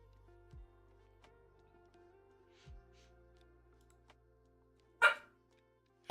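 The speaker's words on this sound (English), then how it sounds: "did you come in here just to start barking at the birds?" A dog indoors barks at birds with two sharp barks near the end, coming after a quiet stretch with faint thumps.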